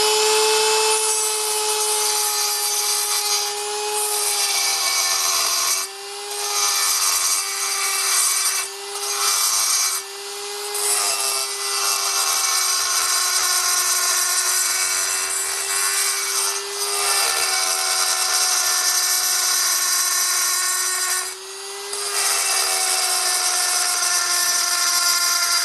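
Budget electric die grinder fitted with a large raspy burr cutting into wood gives a steady high-pitched whine mixed with a continuous rough rasping, close and loud, with brief dips as the burr lifts off and bites again.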